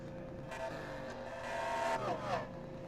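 Race cars in NASCAR Racing 2003 roll down pit road with a continuous engine drone, and one car passes close near the end, rising in loudness before its pitch drops away.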